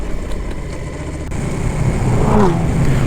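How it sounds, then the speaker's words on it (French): A race car engine roars past a motorcycle rider on a road. A steady mid-pitched rumble rises to a louder, nearer growl toward the end. "Waouh, la voiture de course, ce bruit magnifique."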